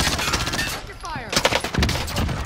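Automatic gunfire from a Krig 6 rifle in Call of Duty Warzone, a couple of loud bursts of rapid shots in a busy in-game mix with no one talking.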